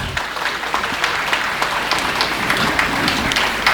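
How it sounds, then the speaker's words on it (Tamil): Audience applause fills a hall at a council centenary event in Chennai, a dense, steady wash of many hands clapping at full volume throughout. "ஒரு பலத்த கைத்தட்டல் கொடுக்கும்"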